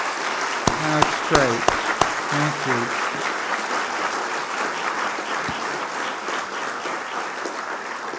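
Steady, broad applause from the audience at a university opening ceremony welcomes the newly appointed professors, with a brief spoken exchange near the start over the clapping, which continues evenly to the end.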